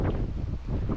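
Wind buffeting a microphone aboard a sailboat at sea, reefed in on a solo passage from northwest Spain to Ireland, a brief steady low rumble filling the whole moment without any talking.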